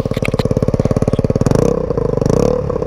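A scooter engine with the exhaust's quieting insert pulled out runs loud and close, a fast steady pulsing idle that rises into a fuller, louder revving roar halfway through, heard alone without talk.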